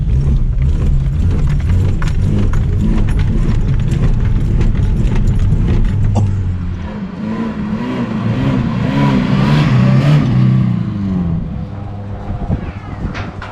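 A track car crawls around the block in first gear, its engine chugging in a rough, lumpy rhythm with loose mechanical clatter, and then eases off into a quieter, uneven idle.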